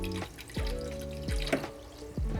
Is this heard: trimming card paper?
no